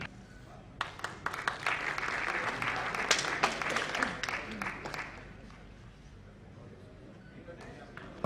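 Audience applause breaks out at a Hindi-Urdu poetry gathering honoring Anwar Jalalpuri, with dense clapping swelling for a few seconds and then thinning out, while a voice talks over it.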